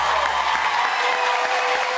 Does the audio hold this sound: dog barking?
no